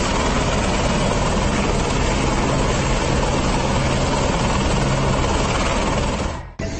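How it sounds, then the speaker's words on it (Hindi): A rescue helicopter during the Uttarakhand floods makes a steady, loud rotor and engine roar that fills the whole stretch without pause, cutting off abruptly near the end. "लोगों को हेलीकॉप्टर की मदद से सुरक्षित जगहों पर भिजवाया।"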